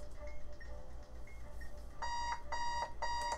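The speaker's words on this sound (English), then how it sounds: "Alarm clock." An alarm clock in the bomb-defusal video game Keep Talking and Nobody Explodes rings in three quick repeated bursts of electronic beeping, following fainter, sparse tones and a low background hum.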